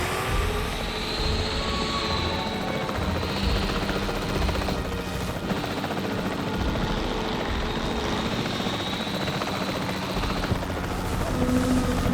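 Capture team helicopter in the video game Jurassic World Evolution 3, its rotor beating steadily and loudly for a long stretch, a dense continuous whirr with shifting engine whine and no talk.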